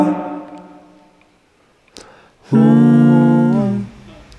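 Three stacked recordings of the same sustained sung vowel, layered into one harmonically rich chord, swell in after a soft lone voice and a brief click, hold steadily for about a second and a half, then fade.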